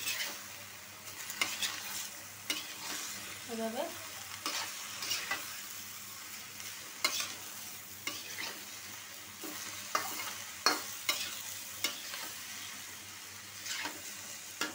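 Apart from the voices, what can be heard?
stirring and frying in a large wok (kadai)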